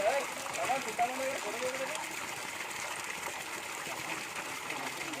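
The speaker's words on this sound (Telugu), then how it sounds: "చింతామణి జలపాతం అక్కదార చెల్లెదార రెండు" Water from Chintamani waterfall streams and splashes in a continuous, moderately quiet rush, with a voice speaking briefly at the start.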